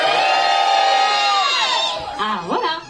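A concert crowd at a small pub gig cheers and shouts in a loud, sustained roar. Near the end it breaks into scattered whoops and individual yells.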